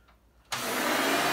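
A Hoover Runabout Supreme upright vacuum cleaner snaps on after a moment of quiet and runs at once with a loud, steady, close whooshing whine.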